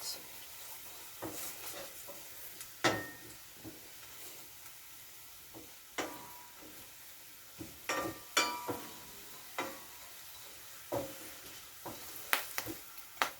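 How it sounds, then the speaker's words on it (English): Soft sizzling of curry frying in a pot, punctuated by scattered stirring clatters and scrapes, fairly quiet and close. "the curry is frying up nicely with my other ingredients"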